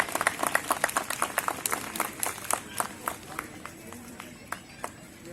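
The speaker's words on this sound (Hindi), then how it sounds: "तालियां बजाएं प्लीज।" An audience claps at a Ramlila and Dussehra committee event in Sector 7, Chandigarh, a thin, fairly distant scatter of irregular hand claps that tapers off.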